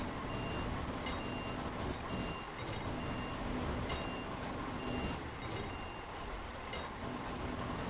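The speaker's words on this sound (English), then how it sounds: "Why are you making all sorts of noise, Mr. Crane?" In the video game Snowrunner, a truck crane works under a steady rumble of engine noise while reversing beeps repeat at an even pace, with occasional hisses and clanks on top.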